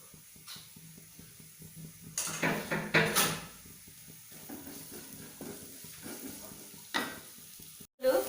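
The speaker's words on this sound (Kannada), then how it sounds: "ನೀರುಳ್ಳಿ ಕಲರ್ ಚೇಂಜ್ ಆದ ಫ್ರೈ ಆದ ನೆಡ್ಡೆ" Onions fry in a little hot oil with a soft sizzle, interrupted by several louder stirring scrapes and clatters in the pan.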